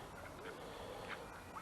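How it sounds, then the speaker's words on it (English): Ducks quacking at a park lake, several faint calls scattered over steady outdoor background noise, fairly distant and low in level. "as you can see, all the ducks are out here"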